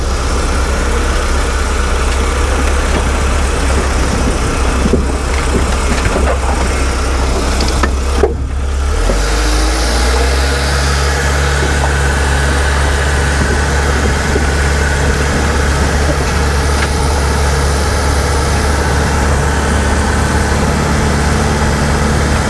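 A 1989 Winnebago LeSharo RV engine drones steadily while driving, a loud continuous low rumble with road noise and vibration throughout, no talking.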